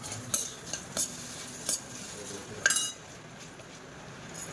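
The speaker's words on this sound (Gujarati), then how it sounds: "તો આ બાજુ બા મમરા વઘારે છે." Spoon stirring puffed rice being tempered in a pan with turmeric and salt in a home kitchen; a few sparse metallic clinks and scrapes, quiet and close, with soft background noise between them.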